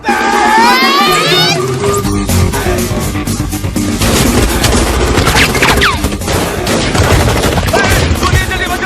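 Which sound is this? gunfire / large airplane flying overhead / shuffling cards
gunfire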